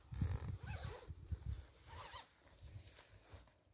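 A double zip on a backpacking tent at a wild camp in the North Pennines is pulled in several quick rasping strokes, close and fairly quiet, with outdoor ambience and no talk.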